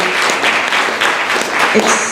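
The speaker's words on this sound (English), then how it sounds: "just a round of applause for Tamarala and her crew at TAGG" Audience applause at a community event for a college ballot measure, a dense, steady wash of clapping filling the room for about two seconds with faint voices mixed in.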